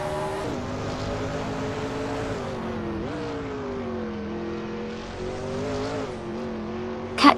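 A Toyota Tundra in a racing video game, its engine droning steadily with pitch rising and falling through gear changes, fairly quiet and alone, ending in a brief sharp burst.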